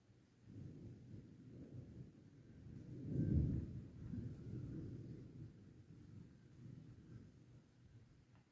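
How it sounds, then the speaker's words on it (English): A low, distant rumble of thunder rolls on for several seconds, swelling once before fading, with no voices. "we're currently having a little bit of thunder"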